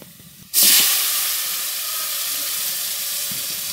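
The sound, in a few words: onions frying in a pan for taki fish curry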